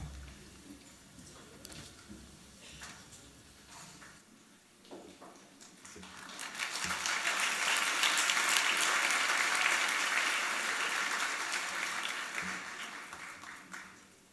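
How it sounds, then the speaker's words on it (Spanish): Applause from a graduation ceremony crowd swells into steady, dense clapping after a few quiet seconds, holding strong before tapering slightly at the end. "Recibamos con un fuerte aplauso"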